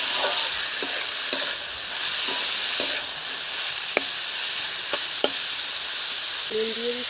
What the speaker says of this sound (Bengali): তেলের ওপরে আর একটু তেল দিয়ে দিলাম, পেঁয়াজ দিয়ে দিলাম, পেঁয়াজটা তুলে দিলাম। পেঁয়াজের মধ্যে আলুটাও দিয়ে দিচ্ছি।